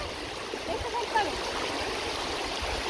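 Flowing stream water makes a steady, close rush and gurgle throughout, with a faint voice briefly audible beneath it.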